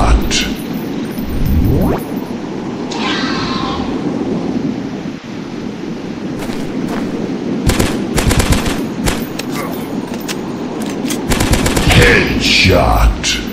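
Gunfire in the Dinosaurs Hunter video game: loud single shots and rapid bursts crack out over a rumbling, rain-like ambience, with a voice speaking between the shots.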